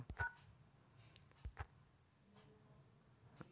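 A mobile phone keypad sounds short dialing beeps while a USSD code is entered, a few sparse quiet tones and clicks with pauses between them in an otherwise hushed room.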